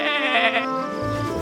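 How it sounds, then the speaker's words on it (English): A cartoon lamb gives one short, quavering bleat, close and clear. "Bleats Lolly the lamb"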